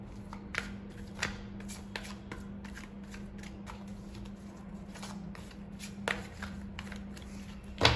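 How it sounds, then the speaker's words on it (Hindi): Playing cards being taken out and shuffled by hand, a steady riffling patter with occasional sharper snaps, close up over a low constant hum. "और कार्ड्स निकाल लेती हूँ मैं"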